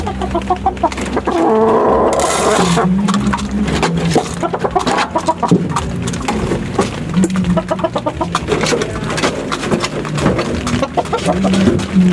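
Many chickens cluck and chatter at close range while feeding, a busy overlapping flock sound with scattered pecking and soft clatter throughout.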